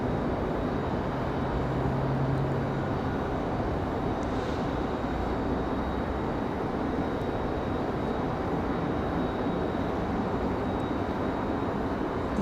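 A Lufthansa cargo aircraft arrives at Raleigh-Durham airport, a broad, continuous engine roar that stays loud and even throughout with no voices.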